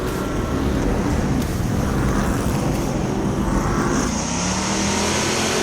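Street stock race cars circling under caution at Boomtown Speedway, a dense, loud roar of several engines that holds steady and swells as cars pass, with no speech.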